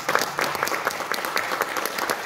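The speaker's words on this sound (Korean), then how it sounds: "여러분이 힘찬 박수 보내주시기 바랍니다" Dense, steady applause from an audience fills the room at a ceremony for the 80th anniversary of Korea's liberation, continuing evenly throughout as the national flag is carried in.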